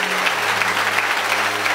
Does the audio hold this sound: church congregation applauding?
yes